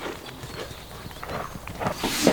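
Hooves of a rising four-year-old horse clip-clop as she is walked off after training, a close, steady run of soft thuds with some shuffling.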